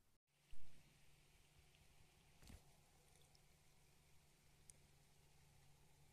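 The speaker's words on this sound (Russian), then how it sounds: "Дождик пошел." Light rain beginning to fall during a riverside fishing trip on the Sula, a soft steady patter of drops with one brief louder knock near the start and no voices.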